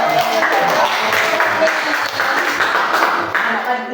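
Applause from a group, likely schoolchildren, in a classroom lesson, with a short burst of clapping mixed with voices and chatter throughout.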